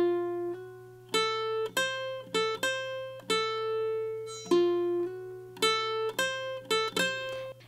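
Ukulele picking out a riff on single strings, clean plucked notes in a loping rhythm, some ringing longer, close and fairly quiet, with a low steady hum underneath and no talk.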